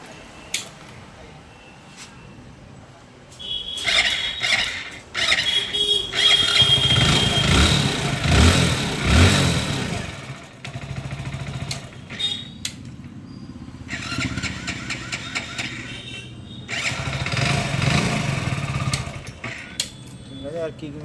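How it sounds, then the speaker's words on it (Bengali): A motorcycle fitted with a newly installed self-starter cranks and fires up, its engine rising and falling in bursts of revving and idling, with a voice talking near the machine at times. "এবারে দেখবো স্টার্ট করে দেখি সাউন্ডটা থাকে কি নয়।"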